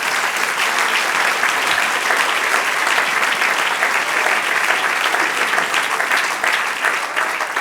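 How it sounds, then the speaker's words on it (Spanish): A church congregation applauds together in a dense, steady wash of clapping that holds at an even level for several seconds before easing slightly near the end. "Denle un aplauso ahora al Señor"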